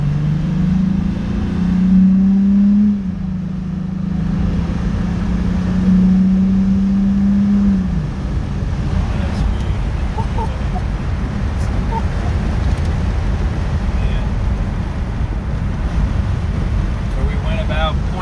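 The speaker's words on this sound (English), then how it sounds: "Then we're gonna go drive around the block." A 2017 Toyota Tacoma TRD drives around the block, its engine drone rising and shifting steadily from inside the cab, with wind and road noise throughout.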